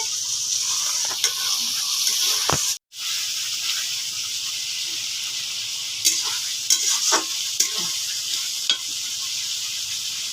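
Masala being sautéed in oil in a pan for a rohu fish and elephant foot yam curry, a steady sizzle with a brief dropout, then scattered scraping and tapping of a utensil as it is stirred, close and without talk.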